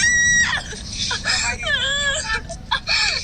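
A young boy cries and screams after being hit, loud, high, wavering wails and sobs that rise and break repeatedly, with adult voices and household noise around him.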